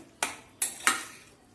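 Three sharp scrapes of a spoon against a metal pan while pomegranate lemon rice with ginger is stirred and folded, each stroke bright and close with a short fade in between.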